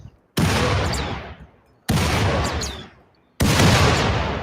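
Automated turrets firing in the game Rimworld, in three long sustained bursts of dense rattling gunfire, each starting abruptly and fading out, loud and close.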